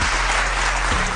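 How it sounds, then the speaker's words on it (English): Audience applause at an awards ceremony, a dense, steady wash of clapping that fills the whole short moment without a break. "by the warm applause and the standing ovation"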